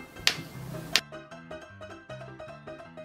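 Two crisp finger snaps about three quarters of a second apart, close and bright, ringing out over a quiet bed of music.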